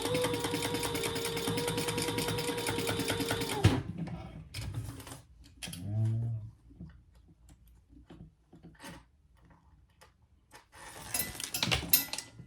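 A sewing machine runs steadily, stitching two rows on a zippy bag, a fast even mechanical chatter for a few seconds before stopping, followed by quiet clicks, handling noises and a brief rustle.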